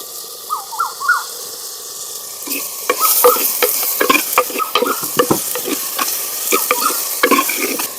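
Onion, ginger and garlic fry in a pan, a bright steady sizzle with scraping stirs and clinks that grow busier partway through, close and loud with no talk.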